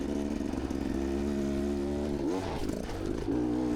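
A Beta X-Trainer dirt bike climbs a hill on an off-road loop, its engine droning steadily at high revs with a strong buzzing hum, then briefly dipping and surging as the throttle changes.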